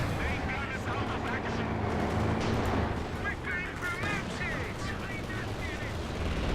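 A pinning strafing run in Company of Heroes 2, a 2v2 match on a frost map, with dense rattling gunfire and booming impacts over a continuous battle din while a commentator talks throughout.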